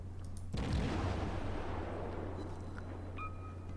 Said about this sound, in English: Now, he is continuing to fire his guns.